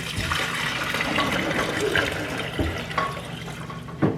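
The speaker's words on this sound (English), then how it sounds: "I am going to start a pot of coffee here." Water pours steadily into a home drip coffee maker as a pot of coffee is started, a close, continuous gushing fill with a few small knocks and clunks near the end.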